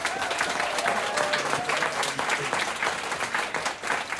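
An audience claps and cheers for a civic challenge team, dense steady applause filling the room from start to finish with no talking.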